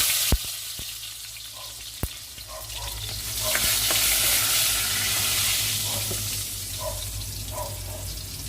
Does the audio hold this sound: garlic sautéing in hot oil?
yes